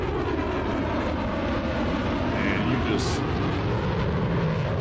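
Fighter jet passing overhead at an air show, a loud, steady roar filling the whole clip with a brief spoken word over it; an F-22 or P-51 Heritage Flight aircraft.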